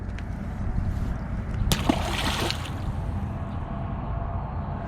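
A small released crappie or white bass splashes back into lake water at the bank, one short, sharp splash amid quiet sloshing and trickling at close range.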